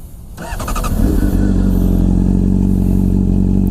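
A Honda CBR600RR sport bike cranks briefly with a starter whir, then catches and settles into a loud, steady, close idle with a low rumbling pulse, heard alone without talk.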